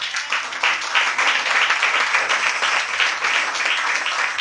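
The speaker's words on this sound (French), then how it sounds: "Est-ce qu'on peut acclamer la parole du Seigneur?" A church congregation at a Sunday service applauds in steady, sustained clapping that fills the room, loud and even throughout with no talk over it.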